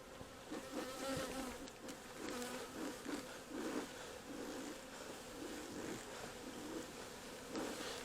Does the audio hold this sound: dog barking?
no